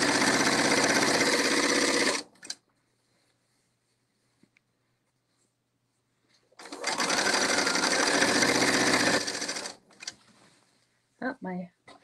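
Sewing machine stitching fabric for a novelty kimono, two loud sustained runs of a couple of seconds each separated by a quiet pause, followed by brief handling clicks.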